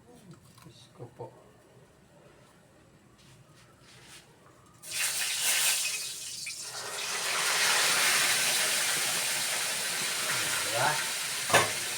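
Food dropped into hot cooking oil bursts into a loud, steady sizzle and spatter after a quiet start with light kitchen clatter, with a voice speaking over the frying.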